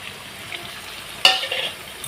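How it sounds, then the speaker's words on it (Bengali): Ground spices (black pepper, red chilli, turmeric, coriander-cumin and Kashmiri chilli powders) sautéed in a pan, a low steady sizzle broken by one sharp spatula scrape and a brief louder frying burst, close up, no voices. "দেখুন বন্ধুরা আবার আমি এই মশলার সাথে কষিয়ে নেব"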